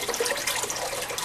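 A Marineland H.O.T. Magnum 250 aquarium canister filter starts up, giving a brief, close rush of flowing, splashing water.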